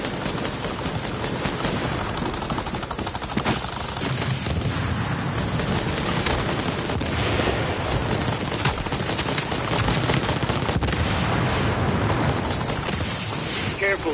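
Turret gunfire in The Division, a dense, continuous crackle of shots and booms mixed with heavy combat noise, loud throughout, with a voice speaking at times.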